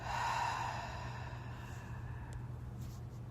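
A person takes a slow, deep breath in and then lets out a long, audible exhale, soft and close against a quiet steady hum.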